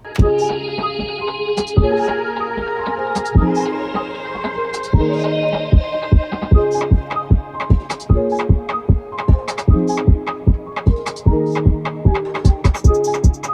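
A loud reggaeton beat with throbbing bass and sustained synth chords builds through the pre-chorus, then shifts into a driving chorus of steady, punchy kicks and percussive hits.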